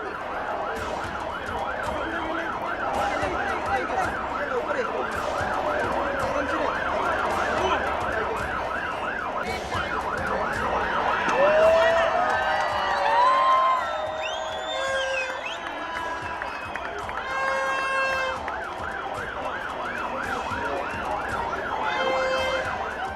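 Sirens on fire brigade vehicles from Mumbai's main fire station wail steadily in a salute to the Lalbaugcha Raja Ganesh idol, several tones overlapping with whoops over a crowd throughout.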